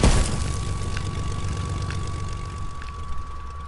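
A propeller airplane engine in a shooter video game drones steadily and loudly with a constant hum. The noise is slightly louder at the start, and faint clicks occasionally break through it.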